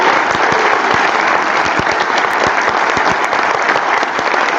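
A crowd at a winter solstice music concert applauds loudly and continuously, with sharp individual claps standing out from the dense wash of clapping.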